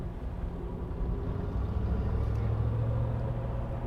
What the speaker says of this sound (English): I'm deliberately doing a little off-roading here to see how the suspension copes.